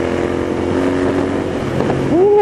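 A Royal Enfield Interceptor 650 motorcycle cruising at about 80 to 90 km/h, its engine a steady drone under heavy wind rush, with a rising whine near the end.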